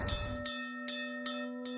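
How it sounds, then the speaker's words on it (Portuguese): A hand bell at a small Indian temple in a Brahmin priest's home strikes five times in an even, unhurried rhythm, each bright metallic ring sustaining a steady humming tone between strikes, close and clear with no talk. "O sino toca o espírito."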